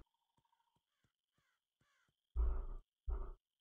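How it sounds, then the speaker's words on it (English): Morning birds in the farming game Honeywood: faint scattered chirps come first, then two loud, harsh crow-like caws close by, each lasting about half a second. "I like listening to the birds in the morning."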